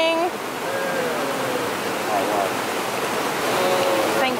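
A jungle river in Sumatra rushes nearby in a loud, continuous broadband roar of churning water, with faint birds or insects chirping through the steady wash.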